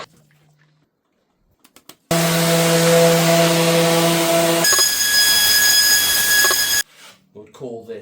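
Belt sander fitted with a 60 grit belt working live edge wood. It starts abruptly as a loud, close, steady whine with a rough sanding hiss, shifts pitch midway, then cuts off, with short sounds before and after.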